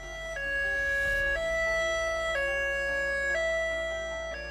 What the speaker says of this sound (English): staff to actually be out driving in the areas with a high-low siren